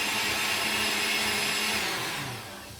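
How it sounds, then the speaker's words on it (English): A kitchen blender on setting 5 whirs loudly and steadily for a few seconds, then begins to wind down at the end. "So just blend for like a few seconds"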